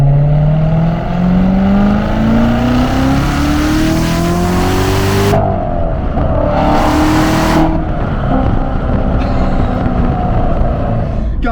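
2017 Chevrolet Corvette Z06 with manual gearbox, heard from inside on a drive: a loud engine climbing in pitch under hard acceleration, a sharp break at a gear change, then pulling hard again, very close and dominant.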